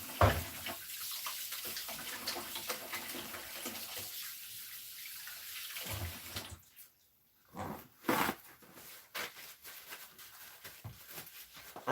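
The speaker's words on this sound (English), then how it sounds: "I'm going to wash my hands real quick." Hands washed under a running kitchen tap while baking a pie at home, a steady close water stream with brief splashy breaks and a short pause midway.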